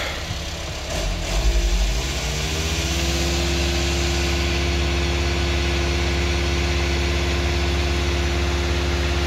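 A VW T5 van with cracks in the cylinder head, a faulty head gasket and boiling coolant under overpressure: its engine is revved briefly up front, then settles into a loud, steady idle drone close by.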